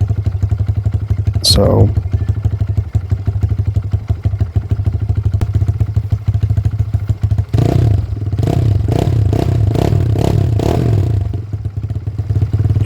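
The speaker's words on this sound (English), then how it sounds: "So we'll just let it idle for a while." A Kawasaki KLX110 fitted with a 143cc big bore kit idles with a close, rapid, steady putter, a brief sharp scrape early on and clattering bursts later, with someone speaking briefly.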